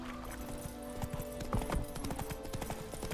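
Hooves of Roach, the horse in The Witcher 3, trot in a quick clip-clop rhythm, fairly close and clear over low game ambience.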